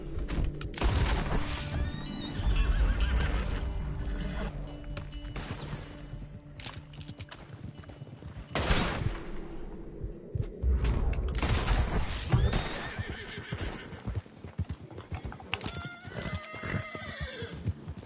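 Horses neigh and whinny repeatedly amid galloping clip-clop hooves and bursts of gunfire in Red Dead Redemption 2, loud and close, with thuds and booms scattered through the chaotic scene.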